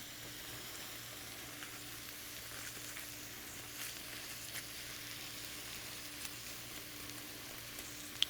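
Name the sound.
vegetables frying in a pan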